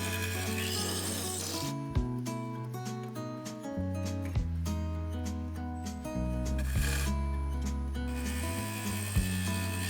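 A skew chisel and bowl gouge cut a spinning mahogany bowl on a lathe, making a continuous loud rubbing, rasping scrape with a steady tonal hum underneath and brief sharper catches, close up with no talk.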